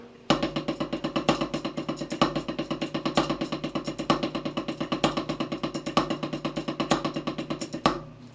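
A snare drum plays a fast, even stream of triple paradiddle strokes with louder accented hits on the start of each sticking, recurring at regular intervals, dry and close, with no talking.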